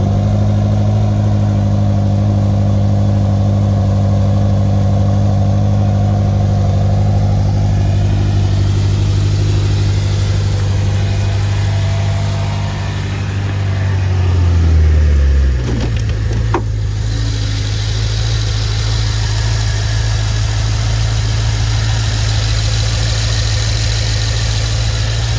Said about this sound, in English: It's gonna be a cold start. So you can hear the motor.